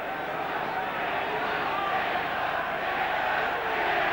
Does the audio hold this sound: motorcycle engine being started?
no